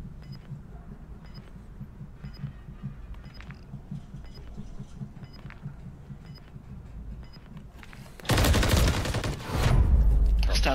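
Rapid gunfire from a meta weapon in the video game Call of Duty, sharp repeated shots for the first eight seconds, then a louder, denser burst of firing and explosive noise near the end, with no talk over it.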